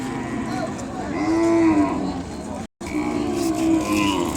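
An Ongole calf at a busy cattle market gives two long, loud, close moos, with a brief silent break between them and steady market background noise throughout.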